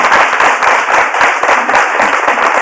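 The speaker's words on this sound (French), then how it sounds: "on peut applaudir très fort notre invité." A TV studio audience claps for a guest, dense continuous applause, loud and close throughout.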